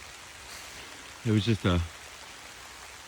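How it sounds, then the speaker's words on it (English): Steady hard rain hisses down onto a lake around a kayaker, a broad, even wash of noise under a brief spoken phrase. "It started raining pretty hard."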